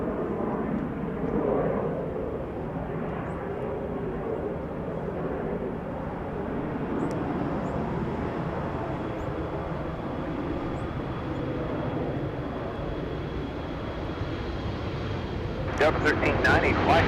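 Broad steady jet roar of a Delta airliner beginning to taxi at Los Angeles International Airport, heard from a distance with constant rumble throughout and a brief burst of sharper noise at the end.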